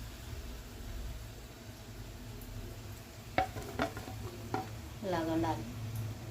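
Sliced bitter gourd fries in oil in a pan, a low steady sizzle broken by a few sharp scrapes and clinks of a spatula stirring against the metal.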